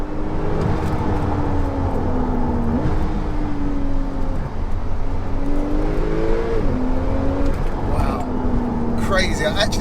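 A 580bhp Porsche 911 Turbo S accelerates hard from inside the cabin, its engine note rising in pitch through several gear changes with brief dips between shifts, loud and continuous while someone talks over it.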